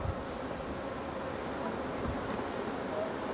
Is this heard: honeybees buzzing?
yes